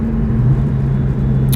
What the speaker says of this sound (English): The sound of the muffler, or the motor in this thing. This is a distinct motor.